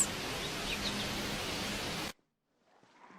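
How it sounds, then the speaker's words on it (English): Steady hiss of white noise accompanies a video game screen fading out, holding loud and even for about two seconds before cutting abruptly to near silence with a faint rustle after. "Beautiful white noise."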